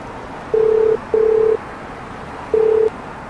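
Phone ringing tone in a Malaysian Tamil horror film scene: three steady mid-pitched beeps, the first two close together, then a pause before the third, clear over a quiet background.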